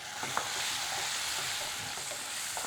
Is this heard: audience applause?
no